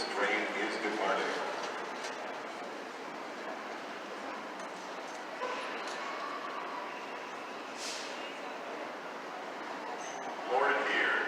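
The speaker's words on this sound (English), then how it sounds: "This train is departing." An automated train departing from a Denver Airport platform: a continuous broadband rumble and hiss of a people mover pulling away, fairly steady and moderately close, with a brief hiss near the end.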